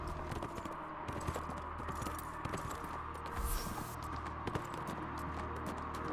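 Rhythmic horse hoofbeats from the video game Neverwinter clip-clop steadily at a trot, close and clear, with a faint background hum and no talking.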